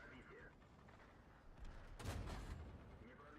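A heavy tank cannon fires in a World of Tanks battle, a single booming blast around the middle that swells briefly, then decays under steady game ambience and faint background noise.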